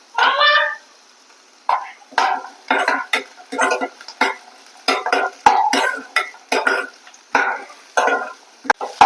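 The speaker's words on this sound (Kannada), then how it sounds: "ಇವಾಗ ಇದೊಂದು 5 ನಿಮಿಷ ಇದನ್ನ ಫ್ರೈ ಮಾಡ್ಕೊಳ್ಳೋಣ." Green beans are stirred and tossed in a pan for a broccoli salad. Repeated scraping, clattering spatula strokes come in quick bursts about once a second, close and fairly loud, with little steady sizzle underneath.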